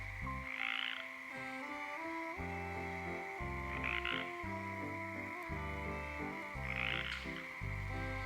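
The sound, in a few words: frogs croaking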